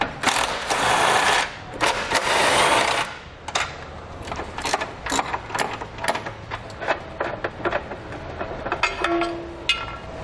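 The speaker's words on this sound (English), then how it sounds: "we're going to take those off with an 18mm socket" An 18mm socket on a ratchet loosening the tow hook bolts on a 2018 Infiniti QX60, with bursts of rapid ratcheting clicks, a longer loud spin early on, then shorter metallic clicks and clanks, close up.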